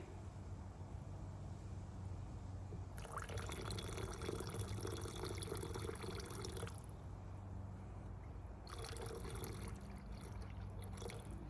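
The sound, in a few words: pouring nitric acid into chemical solution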